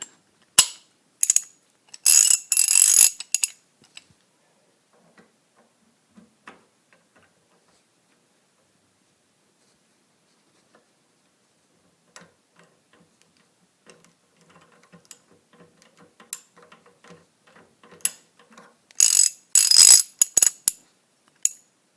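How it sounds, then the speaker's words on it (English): A torque wrench ratchets while tightening a Bravo Company BCM Mod 0 muzzle brake onto an AR15, bursts of rapid loud clicking near the start and end with quieter fiddling taps and ticks between. "I'm going to use the torque wrench to make sure I get at least 20 foot-pounds of torque on this"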